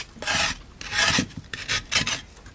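Residue is scraped off a cast iron pan in four close, rasping bursts of uneven length, with brief quiet gaps between the strokes.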